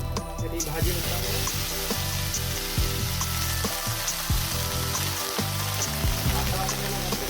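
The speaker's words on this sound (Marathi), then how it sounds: "फोडणी चांगली पैकी तडतड करते" Fresh green chickpea leaves hit a hot oil tempering in a pan and sizzle and crackle loudly and continuously, with the scrape of a spoon stirring them throughout.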